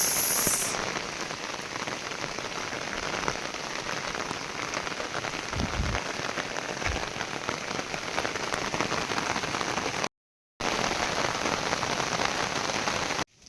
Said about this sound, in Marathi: आला आला पाऊस.